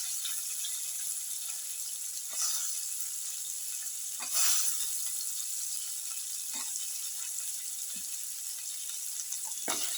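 Green bean pieces sauté in a hot pan with a steady, even sizzle and hiss, broken by a few soft stirring scrapes and clinks. Nobody speaks.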